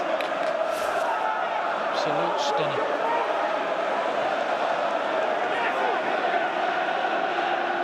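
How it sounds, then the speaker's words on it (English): Grimsby football fans roar and cheer in the stadium during a Football League Trophy quarter-final against Leeds, a dense, sustained crowd noise beneath a commentator's voice. "that's given the Grimsby fans something to cheer about"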